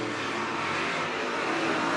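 AEMods race cars at Mt. Pleasant run side by side down the back straightaway, a steady, loud, broad engine roar holding through the whole moment with no gaps.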